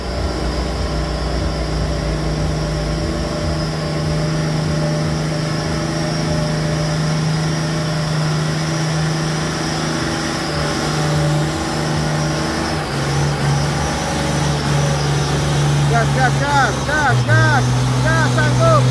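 Hino and Fuso trucks (Fuso HD 220 PS) labor up a sucking mud hill, steady loud diesel drone with rising engine pitch and strain near the end, voices heard over the engines.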